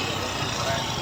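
A Suzuki Gixxer FI ABS motorcycle idles after servicing, a steady, moderately loud engine hum over one second with speech faintly present.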